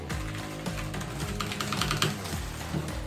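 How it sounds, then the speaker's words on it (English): Typing on a Logitech G813 mechanical keyboard with brown tactile switches, a close, steady patter of key clicks and thocks with a few heavier strokes, nothing else heard. "I'm trying to make them hear the keyboard."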